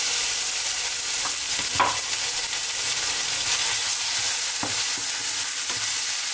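Garlic ginger paste frying in a pan for prawn curry while it is stirred constantly: a steady, close sizzle with a few brief scraping strokes, no voices.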